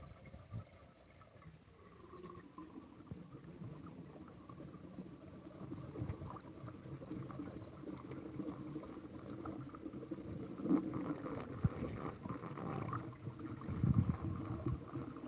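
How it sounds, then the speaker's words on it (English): Water runs steadily into a non-siphonic toilet tank being filled to the top, a continuous mid-level rushing and bubbling that builds slightly louder toward the end, with no voices. "And I'm gonna fill this thing all the way up to the top."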